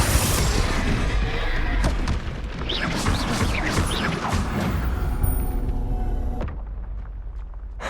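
Confringo fire spell in the video game Hogwarts Legacy bursting into a loud explosive boom with crashing debris and rumble, followed by fading game effects and a sudden cut to quieter ambience.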